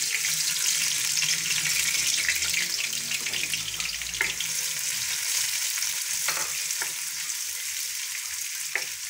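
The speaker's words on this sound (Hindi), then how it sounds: "ऑयल गर्म हो चुका है, अब मैं इसके अंदर प्याज जो है वो ऐड कर रही हूँ।" Onions hissing and sizzling steadily in hot oil in a home kitchen pan, a loud continuous fry with a few light clinks of a utensil, no voices.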